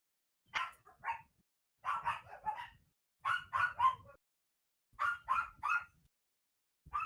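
A dog barks in several quick bursts of two to four barks each, separated by short pauses, fairly close and clear with no talking over it.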